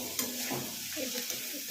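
Spiced steamed cauliflower fries in a pan with a quiet continuous sizzle and faint stirring scrapes, heard close and low throughout.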